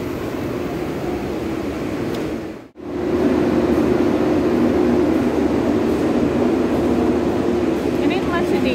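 Interior of an economy carriage on the Serayu passenger train between Bandung Kiaracondong and Purwokerto, a loud steady low rumble and hum with a brief dropout partway through, continuous and close.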